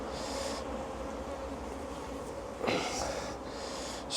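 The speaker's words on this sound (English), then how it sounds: "because there are bees in there" Honey bees buzz steadily inside an open beehive during an inspection, a close, continuous drone with brief rustling bursts.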